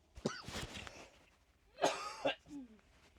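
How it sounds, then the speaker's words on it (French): A woman coughs and clears her throat while unwell with a cold, two separate bursts of harsh coughing and rasping close to the microphone with quiet pauses between them. "il faut que j'arrange la toux avant de vous parler"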